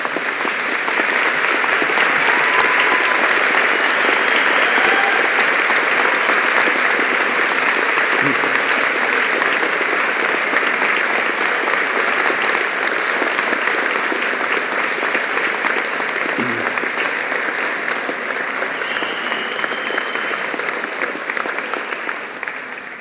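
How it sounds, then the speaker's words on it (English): Audience at a university biosciences graduation ceremony giving a long, sustained round of applause, a loud, dense, even wash of clapping that tapers slightly at the end. "give them a great big round of applause"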